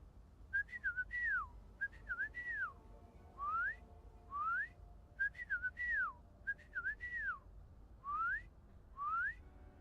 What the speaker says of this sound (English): Alright, let's see if she still knows my whistle.